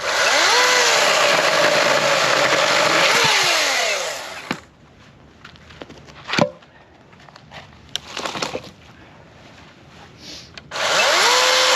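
A RIDGID electric chainsaw whines loudly as it cuts through wood for about four seconds, then stops; faint clicks and handling noises follow before the motor starts up again near the end.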